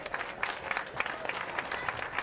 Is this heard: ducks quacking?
no